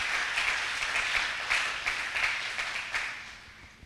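A church congregation applauding, steady dense clapping that stays moderately loud and slowly fades over a few seconds, with no voices over it.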